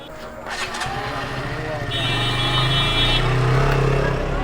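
A KTM RC motorcycle runs on a test ride to check for chain noise, its engine droning steadily and rising slightly in pitch, up close and continuous throughout.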